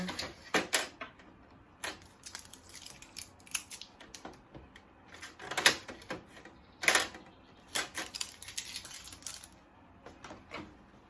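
Epson 2803 printer's plastic tray extender being gently pulled out, heard as a series of close, sharp clicks and scraping rattles in irregular bursts with quiet gaps between them.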